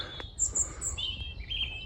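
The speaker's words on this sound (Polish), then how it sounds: "No i te ptaszki." Several high, thin bird chirps and tweets ring out in short phrases over a low outdoor background rumble, on a sunny day in a riverside housing estate in Nottingham, England.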